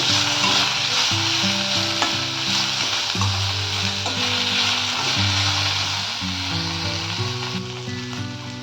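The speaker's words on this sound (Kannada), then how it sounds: "ಈ ಸಾಂಬಾರ್ ಸೊಪ್ಪನ್ನು ಚೂರ್ ಮಾಡಿ ಹಾಕಬೇಕು ಸ್ವಲ್ಪ ಎಣ್ಣೆಯಲ್ಲಿ ಫ್ರೈ ಆಗಬೇಕಿದೆ" Chopped ajwain leaves fry in hot oil, a loud, steady sizzle that stays continuous and close throughout, with a low tonal hum underneath and no voices.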